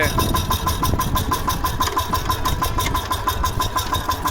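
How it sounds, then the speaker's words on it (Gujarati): A small tractor engine runs steadily in reverse gear, a close, loud, even rhythmic chugging throb with a persistent mid-pitched mechanical hum and no pauses. "હવે રિવર્સ ચાલશે ટ્રેક્ટર"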